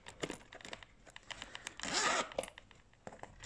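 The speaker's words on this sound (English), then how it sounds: "which has a zipper in the middle here," The zipper on a crochet handbag with leather sides is pulled open in one quick, raspy zip, surrounded by soft handling rustles and taps of the bag.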